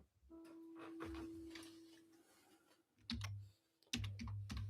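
Soft keyboard typing runs in irregular bursts over a steady low hum and faint background tones, with a louder cluster of clicks near the end.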